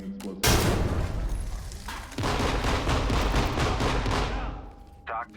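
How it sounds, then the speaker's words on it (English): A C2 explosive breaching charge detonates in the tactical shooter Ready Or Not: one sudden, loud, close blast, followed by a dense, sustained rumble of echoing gunfire-like chaos before it cuts off. "I'll do it. Deploying explosives."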